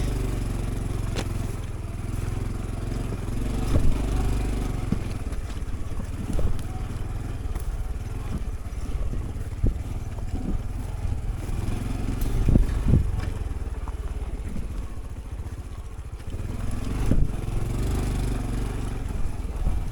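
A motorcycle picks its way over loose rocks on a desert mountain trail where the path has faded out, its engine rumbling steadily at mid revs with occasional bumps and scrapes from the rocky ground.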